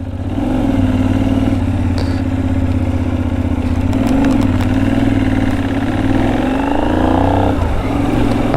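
A Benelli 752S motorcycle engine runs steadily and loud, a constant throbbing drone with slight revving swells throughout, alone without talk.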